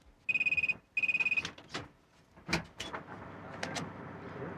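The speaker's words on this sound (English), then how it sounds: "You answer the door, I'll answer the phone." Two short bursts of a trilling electronic phone ring, then clattering and rustling handling noises close by.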